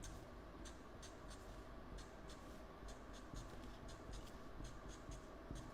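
A pen scribbles quickly on paper, colouring in the keyboard of a paper origami piano: rapid, close, quiet repeated strokes over faint room hum, with no talking.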